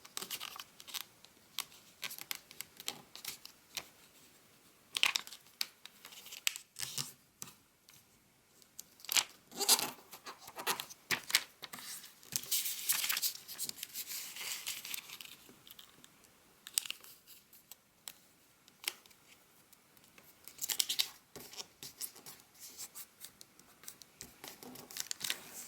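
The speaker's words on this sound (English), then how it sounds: "we fold either side towards the center crease we just made" Origami paper folded into a kite base for a zebra model: crisp crinkles, taps and sharp creasing scrapes come in irregular bursts, close up, with no talking.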